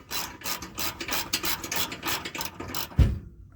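A bolt on a steel aftermarket bumper of a Jeep JK being tightened with a wrench: a steady rasping, ratcheting scrape in quick repeated strokes, close by, ending with a single solid clunk.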